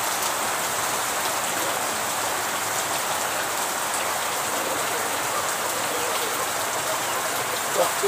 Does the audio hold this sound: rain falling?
yes